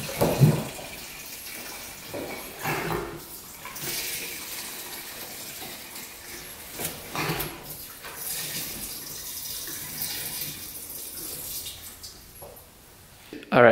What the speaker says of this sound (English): Add some fresh fuel now that all the gas is drained out.